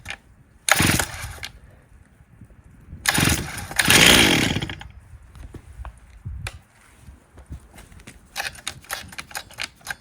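Stihl 044 Magnum chainsaw with choke on, pulled over repeatedly: loud bursts of cranking and brief sputtering engine catches around one and four seconds, then quieter rattling and a few sharp clicks without a sustained run.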